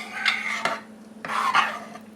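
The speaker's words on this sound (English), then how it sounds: "we're just going to stir this around and get this mixed well" A spoon scrapes and clinks against a crock pot while Cincinnati chili with ground hamburger is gently stirred, two short bursts of stirring separated by a quiet pause, close and alone.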